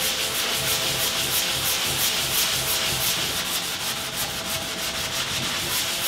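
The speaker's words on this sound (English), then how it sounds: "there's so much plaster in the paint, it makes it easier to sand it down" Steady, continuous sanding of plaster-thickened paint on a painting, a dense abrasive rubbing that holds an even loudness from start to finish with no talking.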